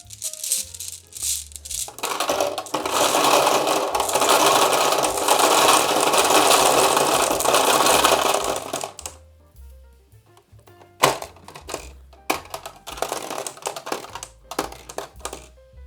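A loud, dense clatter of heavy balls poured into a board game dispenser in a continuous rush for several seconds, then a few scattered rattles and clacks afterward.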